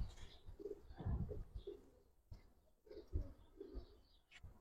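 Giribaz pigeons in a loft coo softly in repeated low, throaty phrases, faint and close, over a murky background with no talk.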